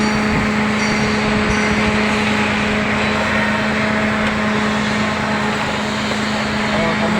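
A freshly overhauled engine, not yet fitted to its vehicle, idles steadily outdoors on a cold, windy day for break-in, its exhaust pipe extended to quiet it, a constant loud drone with wind noise, while someone talks over it.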